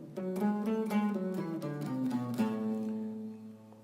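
Clean guitar picking out the A melodic minor scale note by note, each note plucked distinctly and ringing in an even ascending run, with the last note sustained and fading.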